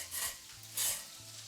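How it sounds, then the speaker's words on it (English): Roasting cauliflower is flipped over in a hot pan, with two bursts of scraping and sizzling separated by short pauses, close and fairly quiet. "So I'm going to flick it over"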